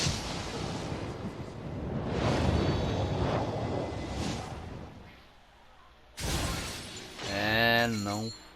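Shot fired in the Genshin Impact video game: a loud shattering, explosive burst with whooshing debris, followed after a pause by a sharp impact and a ringing tonal effect.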